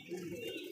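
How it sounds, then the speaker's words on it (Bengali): A single Indian racing pigeon gives a brief, soft coo up close, a low throaty murmur lasting under a second. "ইন্ডিয়ান একটা কবুতর"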